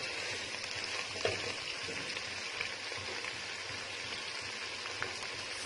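Chicken frying and sizzling in a pot for Multani biryani, a steady close hiss with faint pops and crackles throughout, moderately quiet, with no talking.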